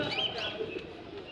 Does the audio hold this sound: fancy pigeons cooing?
yes